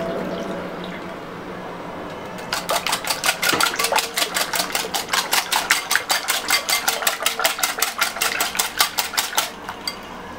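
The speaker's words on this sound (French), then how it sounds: "je mélange juste un peu pour bien mixer l'huile et les œufs" Oil and eggs are being mixed in a bowl. After a quiet start come rapid, evenly spaced clicking strokes that go on steadily and close by.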